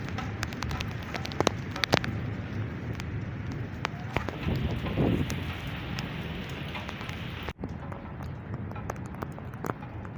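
Rain falls steadily outdoors in a continuous hiss with scattered drip and patter on surfaces, close and even for about ten seconds, with one brief sharp knock partway through.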